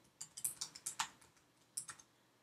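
Soft, crisp clicks from a computer keyboard as a single word is typed, about a dozen close taps in a quick run, a short pause, then a few more, heard alone.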